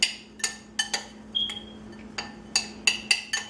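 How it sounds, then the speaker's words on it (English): A spoon clinks against a bowl in irregular taps while Splenda and cinnamon are stirred into a dry pecan pie crust mix, with a steady low hum underneath and no talking. "Now we're going to go ahead and just stir that right up."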